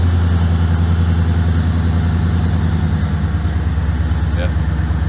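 A 1996 LT1 V8 car engine idles high after a cold start, a loud, steady, close rumble with an even throbbing pulse throughout, with a brief faint chirp partway through.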